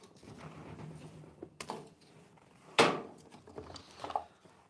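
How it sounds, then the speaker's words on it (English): Firewood placed onto a small indoor fire: a few wooden clunks and knocks, one sharp clattering thump in the middle, close and moderately loud, with no voices over it. "Wood on the fire."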